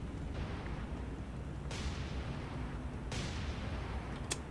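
Two heavy, booming 5-inch naval gun shots fire at a steady interval in the naval warfare video game War on the Sea, each followed by a rumbling tail over a constant low background.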